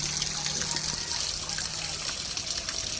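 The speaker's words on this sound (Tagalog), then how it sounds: "Galing sa taas yung tubig." Water gushes steadily down from above in a natural outdoor setting, a continuous loud rushing roar with no pauses.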